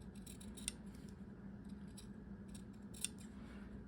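Scissors cut fashion fabric for a single welt pocket on a half-scale tailored jacket, with two sharp snips over a quiet, steady background hiss.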